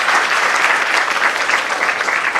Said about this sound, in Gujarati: એટલે પાછી એકવાર તાળીઓ આપણે જોરદાર વધારીએ